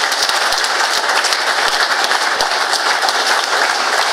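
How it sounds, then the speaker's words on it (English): Sustained applause from an indoor audience after a talk on the TSR2 aircraft, a dense, steady patter of many hands clapping at even loudness throughout, with no voices. "Can we have a round of applause for the speaker?"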